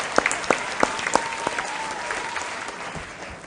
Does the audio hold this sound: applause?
yes